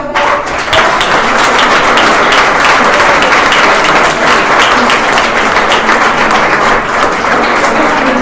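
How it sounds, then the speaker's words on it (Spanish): Loud, sustained applause fills a hall as a first prize is awarded to Sofía at a book presentation and lecture, a thick unbroken clatter of many hands from start to finish. "Un aplauso para Sofía."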